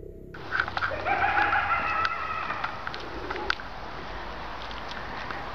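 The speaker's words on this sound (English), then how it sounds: "it sounds like a bird" A bird calls out in the woods at night in a rising, warbling cry lasting a couple of seconds, heard at a distance over a steady hiss and faint scattered clicks.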